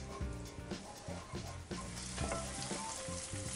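Garlic fries slowly in oil over low heat for spaghetti alla puttanesca, a soft steady sizzle with occasional stirring taps.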